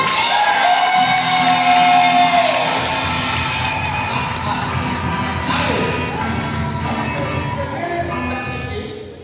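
A church congregation at a consecration ceremony for elders and deacons loudly cheering and acclaiming, a dense roar of shouts, whoops and ululating voices that swells early and carries on steadily, close and enveloping.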